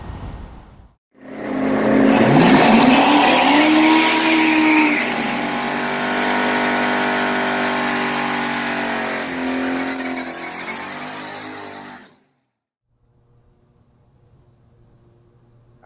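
A 1985 Ford Mustang race car with stock cam, E7 heads and AOD transmission revs hard nearby, with a rising pitch, a sustained roar and a slight dip, then shuts off into quiet after about eleven seconds.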